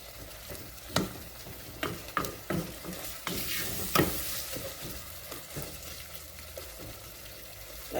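Ingredients sautéing over medium-high heat in a pan, a low, quiet sizzle punctuated by sharp spoon clacks and scrapes every second or so, close by and without talk.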